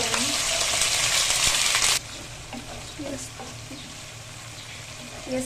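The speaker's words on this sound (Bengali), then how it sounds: "পেঁয়াজটা একটু ভালো করে ভেজে নিতে হবে।" Onion paste frying in a pan for egg korma, a loud bright sizzle for about two seconds that then drops to a quieter frying hiss with light spoon taps and stirring clinks, no speech.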